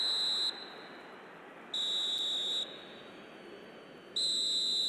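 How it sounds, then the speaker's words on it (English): A referee's whistle in the eFootball mobile football game sounds in three long, shrill blasts, each lasting about a second, over a low murmur of stadium crowd noise. "Referee looks at his watch and blows his whistle"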